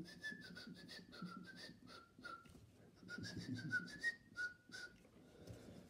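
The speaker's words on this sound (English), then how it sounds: "Whistling pipe." A whistling pipe plays a short run of bright, piercing notes in quick phrases with brief gaps, close and fairly quiet, over a soft background rumble.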